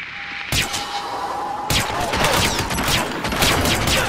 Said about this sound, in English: Shots have been fired. Repeat, shots have been fired.